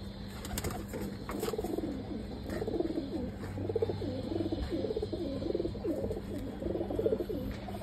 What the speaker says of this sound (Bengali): এই ছিল কবুতরগুলি